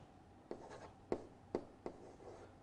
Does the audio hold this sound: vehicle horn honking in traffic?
no